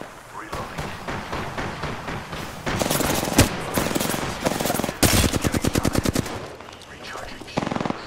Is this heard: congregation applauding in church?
no